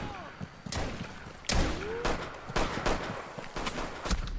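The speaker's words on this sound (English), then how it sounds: "we're going to go hunting with a double barrel shotgun" Double barrel shotgun blasts in a video game, several sharp thuds spaced through a short stretch, mixed with game noise and a voice talking.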